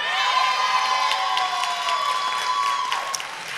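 A graduation audience cheers and whoops over steady applause, a loud, dense crowd roar that holds evenly and then eases slightly toward the end.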